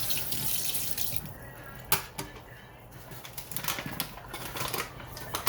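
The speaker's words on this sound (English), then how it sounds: "Let me rinse my spoon." A spoon is rinsed under a running kitchen tap, the water hissing steadily with a few clinks and splashes of metal against the sink over several seconds, no talking.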